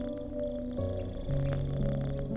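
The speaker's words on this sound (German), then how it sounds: "erneut beginnt der Rote glücklich vor sich hin zu schnurren" A contented red cat purring softly and steadily, a low continuous rumble with a slight shift in tone partway through, close and alone.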